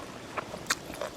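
Crunchy bites of neem served with sweet fish sauce, a few quick, close crunches and chews over a noisy background, with no talk.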